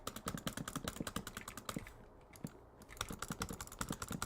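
Rapid computer keyboard typing, close crisp clicks in quick bursts with a short pause in the middle before the clatter resumes.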